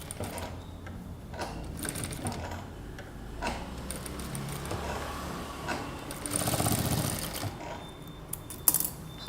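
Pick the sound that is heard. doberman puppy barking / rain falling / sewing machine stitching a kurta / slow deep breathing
sewing machine stitching a kurta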